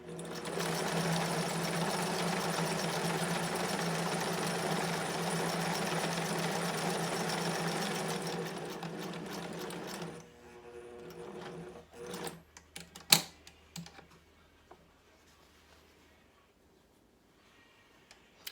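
A sewing machine back-stitches a fabric face mask, running steadily for about ten seconds, then stopping and giving way to a few scattered clicks and handling knocks.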